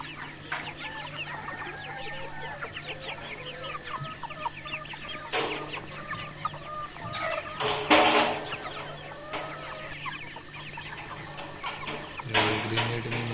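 Traditional village poultry in Antravali, Konkan: hens clucking in bursts near and far, with chicks peeping and occasional louder squawks, no talk.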